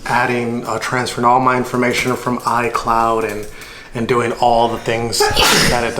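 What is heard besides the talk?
sneeze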